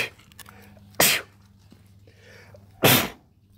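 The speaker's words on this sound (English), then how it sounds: "I have to sneeze" Two sharp sneezes, about two seconds apart, burst out loudly over a quiet background with faint low hum.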